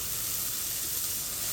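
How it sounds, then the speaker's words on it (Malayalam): Horse gram and mushroom sauté in hot ghee in a pan, giving a steady, close, even sizzle with a broad hiss and no breaks, heard alone without talk. "ഇനി ഇത് രണ്ടും കൂടെ നല്ലപോലെ നെയ്യിൽ കിടന്നൊന്ന് വഴറ്റിയെടുക്കാം"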